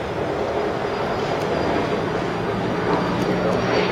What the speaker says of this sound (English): Jet flying past.